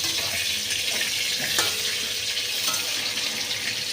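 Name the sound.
eggplant frying in oil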